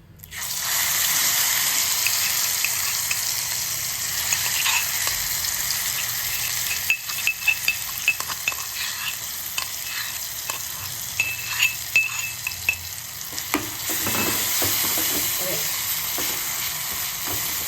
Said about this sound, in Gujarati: હવે તેલ ગરમ થઈ ગયું છે તો તેમાં ચપટી હિંગ ઉમેરી આપણે લસણની ચટણી તેમાં ઉમેરી દેવાની છે